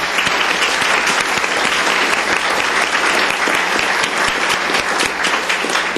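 Dense, loud applause from an audience honoring county employees at a commissioners court meeting, steady and sustained throughout with no talk over it.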